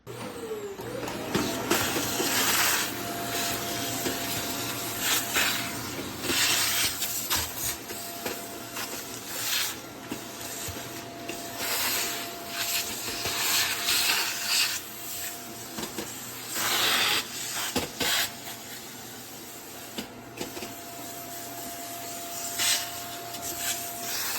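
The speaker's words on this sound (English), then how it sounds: "I just grab the hose end of my vacuum and I suction up all the crumbs off of the top" A vacuum cleaner hose runs steadily, sucking crumbs off the top of a gas stovetop, with a continuous whine and bursts of rattling and scraping as debris is pulled in.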